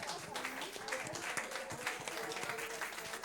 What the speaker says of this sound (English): Please, one more time, a warm round of applause.